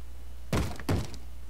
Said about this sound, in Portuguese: tem um zumbi quebrando a porta aqui.